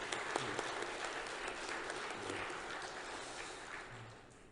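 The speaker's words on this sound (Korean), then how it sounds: "박수로 한번 격려해 드렸으면 좋겠습니다." Applause from a church congregation during a Sunday service at Pyeongchang Jeil Church, a steady, fairly faint wash of clapping that thins out and fades toward the end.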